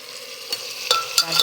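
Spices sizzling in a hot pan with turmeric, pepper, coriander, chili and cumin, stirred with a utensil: a steady bright hiss broken by several scraping strokes, up close and without talk.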